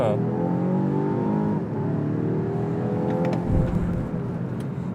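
A Volvo XC60 Polestar Engineered T8 AWD plug-in hybrid revs hard at full throttle from a standstill, its petrol engine held against the brake before pulling away, a loud sustained drone rising and shifting pitch with light road noise.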